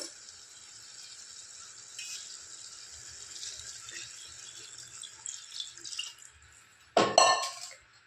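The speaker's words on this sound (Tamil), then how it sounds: "4 டம்ளர் தண்ணி ஊற்றிக்கலாம்" Water is poured into a cooking pot for vegetable biryani, a faint, steady trickle and splash that ends in a brief louder splash and clatter near the end.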